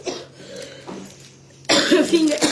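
A woman coughs in a short, harsh burst near the microphone, following a stretch of quieter room sound with faint background noise.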